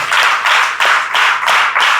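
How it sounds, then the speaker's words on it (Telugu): A congregation clapping in praise at a church service, a quick even run of about eight claps at a steady rhythm, loud and close, with no talk over it. "చప్పట్లు కొట్టి ప్రభు నామాన్ని మహిమపరచండి"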